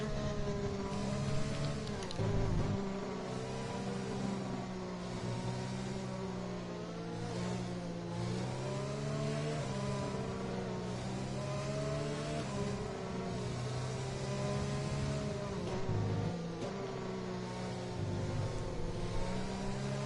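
Formula One race cars lap the Great Britain circuit in a racing video game, with a loud, continuous high engine whine that rises and falls in pitch through gear changes and passing cars.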